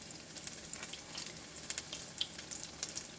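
Homemade chicken patties fry in a pan with a steady, fairly quiet sizzle, scattered with bright crackles and pops throughout and no talking.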